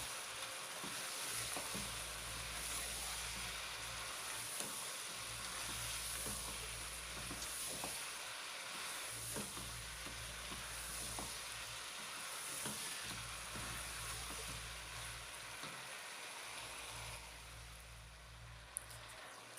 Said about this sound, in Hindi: तकरीबन 8 मिनट तक हमने बाकी चीज़ों के साथ भी चिकन को अच्छी तरह से फ्राई कर लिया है।